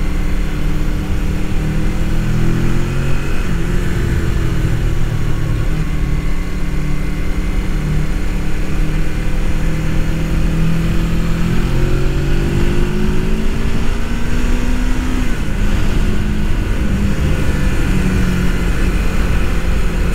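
A 1989 Suzuki GS500 500cc motorcycle rides along with its engine droning steadily and pitch rising and falling through acceleration, loud and close with continuous wind noise and no talk.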